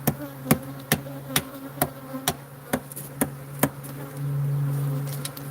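Bees hum inside a brick wall with a low steady drone, punctuated by sharp evenly spaced tapping knocks, and the buzzing swells louder toward the end.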